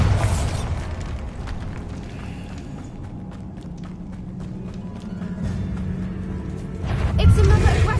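A Bombarda blasting spell goes off in Hogwarts Legacy, a dull, rumbling boom that swells near the end over steady low game ambience and mechanical clatter.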